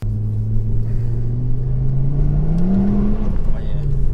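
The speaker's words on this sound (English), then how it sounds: "All right, that was us spinning the wheels in 2nd." Volvo C30 with high boost accelerating in second gear while its wheels spin, a steady low engine drone rising in pitch and loud throughout, with faint voices in the background.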